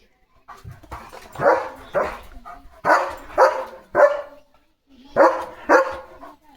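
A dog barks in a rural spot where cattle are passing, giving about nine loud, close barks in two bursts with a short pause between them.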